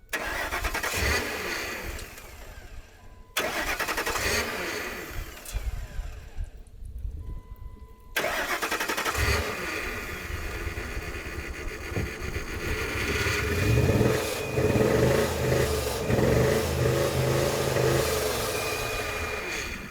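A Ford F-150 truck engine cranks and starts after several attempts, then settles into a loud, rough running roar with revving surges, close by, with no talking.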